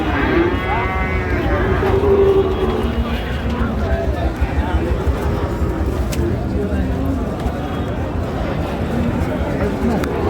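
Sahiwal bulls at a cattle market in Dinajpur give long, loud moos over a constant crowd murmur and talk, with traffic noise mixed into the busy background.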